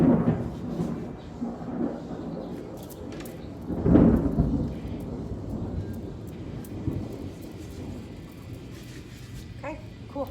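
Distant thunder during a storm rolls low and soft, swelling to a single heavier rumble near the middle before fading back into a faint background murmur.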